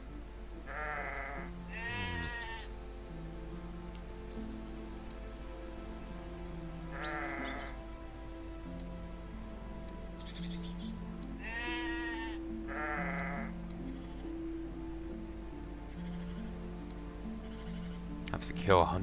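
Sheep in the game The Black Grimoire: Cursebreaker bleat repeatedly, several wavering calls spread across the scene at close range, over a sustained tonal background music bed.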